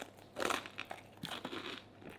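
Quiet, close crunching and crinkling as someone bites into bread topped with crispy fried Brussels sprouts, a few irregular bites and chews with no talk.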